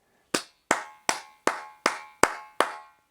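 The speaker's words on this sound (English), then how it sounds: "And this clap echo is crazy." Seven single hand claps ring out at an even pace in a room with a hard ceiling, each sharp crack followed by a short bright echo tail that decays before the next.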